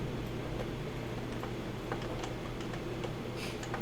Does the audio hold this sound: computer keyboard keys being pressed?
yes